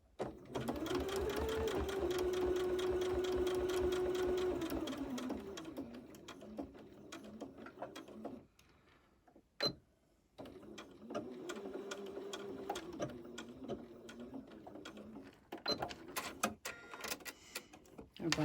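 A sewing machine stitches binding onto a baby quilt, running in a long steady whir, stopping briefly, then running again in shorter bursts, with a voice talking softly in places.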